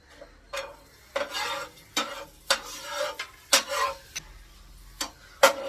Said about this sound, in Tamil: இப்போ திராட்சையை போட்டுக்கலாம்